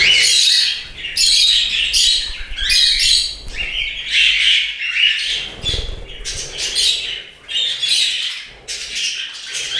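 Budgerigars and finches chatter and squawk in an indoor bird room, a dense, near, continuous mix of bright chirps and calls with brief overlapping bursts and occasional faint rustles beneath.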